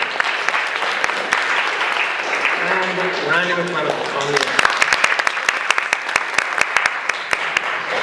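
An audience claps at a Republican mayoral candidate forum as the candidates are introduced; steady, fairly loud applause fills the room while a voice announces over it partway through.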